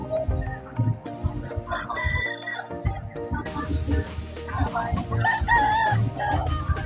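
Gamefowl roosters of the Sweater Gilmore line crow at a gamefarm booth during a poultry expo, several loud drawn-out crows from nearby birds mixed with clucks and background bustle.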